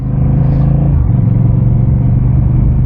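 A motorcycle rumbles loudly and steadily close by, its engine tone dropping slightly partway through as it passes, with no talk over it.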